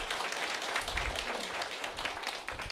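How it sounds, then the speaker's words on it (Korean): Audience applause at a corporate sales gathering, a steady wash of clapping sustained throughout at moderate level, with no speech over it. "다시 한번 큰 박수 드리겠습니다"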